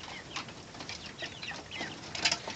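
Young chicks in an indoor poultry coop on a cool morning, with potato peelings set out for them, cluck and peep softly and continuously as a small flock, steady and moderately close, with a sharper, louder call near the end and no talking.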